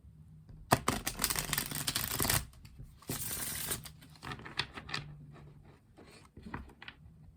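A deck of decorative playing cards is shuffled up close, with two dense, crackling riffle bursts followed by lighter taps and card handling. No voices are heard.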